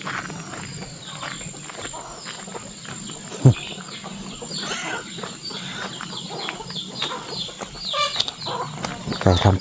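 Chickens cluck and scratch about on a rural farm, with scattered clucks and rustling footsteps under steady background noise, a loud thump partway through, and someone talking over it.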